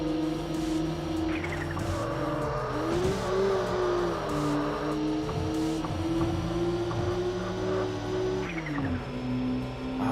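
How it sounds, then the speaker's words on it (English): A racing car's engine in the arcade game Wangan Midnight holds a loud, steady drone with shifting gear pitches, and a few quick turbo blow-off hisses come through. No one talks. "I love that blow-off valve sound on the turbo"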